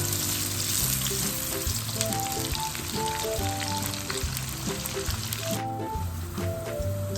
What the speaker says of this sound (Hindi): ऑयल थोड़ा सा गर्म हो जाएगा तो इसमें ये 1 मीडियम साइज़ का प्याज स्लाइस करके डाल दूँगी